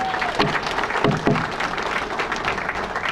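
An audience at a sports hall of fame banquet breaks into a dense burst of applause that fills the room, with a voice briefly audible over the clapping near the start.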